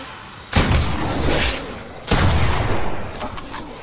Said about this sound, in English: You know I got the drum gun